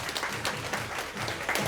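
Audience applause welcoming a lecturer onto the stage at a Korean Mannatech business seminar, a steady wash of clapping from a full room that holds at an even level throughout.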